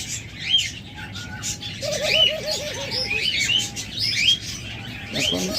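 Pet birds sold as master pairs, big-sized lovebirds, budgerigars, cockatiels and doves, chirp and tweet busily throughout, with a run of soft cooing notes in the middle and more near the end, a dense aviary chorus close by.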